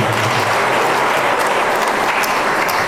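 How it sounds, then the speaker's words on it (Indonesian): Members of the congregation at the inauguration of GPI Bukit Zaitun church in Aimas, Sorong, break into loud sustained applause, a thick continuous roar of many clapping hands filling the hall. "Mari kita beri tepuk tangan untuk doa kita"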